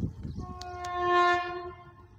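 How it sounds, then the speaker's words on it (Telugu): A train blows a long, sustained horn from a short distance, rising and then fading, with faint track rumble underneath. "నా వెనక రైలు కూడా వస్తుంది చూడండి."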